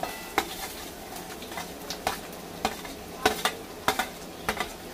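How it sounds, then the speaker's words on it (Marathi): Finely chopped onion frying in hot oil with curry leaves for spicy potato poha, a soft continuous sizzle broken by frequent scraping and tapping of a spatula against the pan, close and with no talking. "आता आपण टाकूया ह्याच्यामध्ये बारीक चिरलेला कांदा।"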